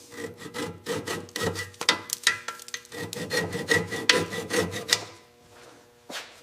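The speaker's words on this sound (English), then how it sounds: "Clean mating surface." Scraping and rubbing strokes clean an engine mating surface on a 1960s Mini Cooper S, a close, rhythmic series of gritty rasping passes that stop near the end, followed by a single soft knock.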